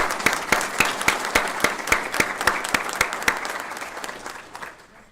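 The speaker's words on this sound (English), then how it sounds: "please join me in welcoming Pastor Sprinkle with a round of applause" Audience at a school district board of trustees meeting applauds to welcome Pastor Sprinkle, steady rhythmic clapping nearby with a few strong claps marking the beat before tapering off.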